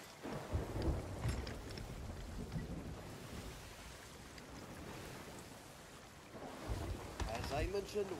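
A thunderstorm at sea in the video game Sea of Thieves: heavy rain and rolling thunder roar continuously around a ship, with deep rumbles swelling at the start and end and a voice faintly underneath.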